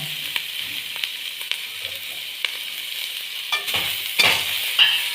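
Vegetables half-frying in a pan for a Chinese chicken and noodles dish, with a steady soft sizzle and occasional clinks and scrapes of stirring that grow a little busier toward the end.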